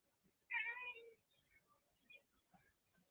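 A house cat named Kitty gives one clear, fairly loud meow followed by a few faint, softer chirps and small sounds in an otherwise quiet room.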